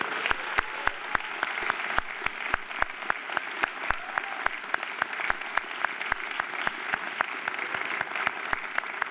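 Crowd applause at a Les Roches Crans-Montana graduation ceremony, a steady wash of clapping with sharp regular claps standing out near the microphone, sustained and moderately loud for the whole stretch.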